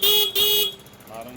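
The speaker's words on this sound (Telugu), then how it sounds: "హారన్ కూడా చాలా చక్కగా పనిచేస్తుంది." The horn of a Honda Activa 4G scooter sounds in two short, loud beeps close by, followed by quieter background noise.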